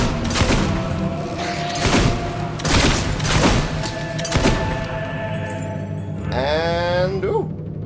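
Gunshots ring out as enemies are shot in the Fable II video game: a run of loud, booming blasts in quick succession, with a brief tonal cry near the end.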